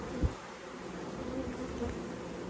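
Honeybees buzz around an opened beehive as a frame is pulled out, a steady close hum of many insects with one brief louder bump near the start.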